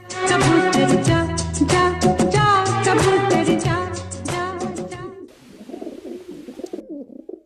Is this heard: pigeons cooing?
yes